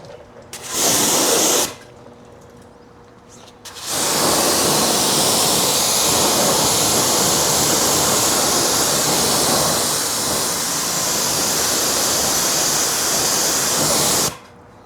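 A water spray rinses a car wheel, a loud steady broadband hiss that starts after a short burst and pause and runs without a break for about ten seconds before cutting off.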